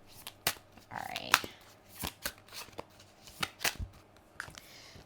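A deck of tarot cards is shuffled by hand in quick riffling bursts and soft slaps, close to the microphone, with short pauses between the shuffles.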